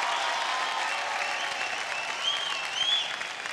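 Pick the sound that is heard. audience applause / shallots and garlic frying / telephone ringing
audience applause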